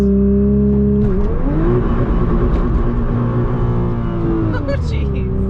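A 2021 Nissan GT-R launches at full throttle with wheelspin, its engine droning loudly and rising in pitch in surges, while people talk over the noise inside the car.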